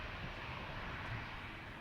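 An American Airlines airliner lining up on the runway at Reagan National, heard as a continuous distant engine rumble and hiss, steady and unbroken.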